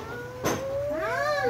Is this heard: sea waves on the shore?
no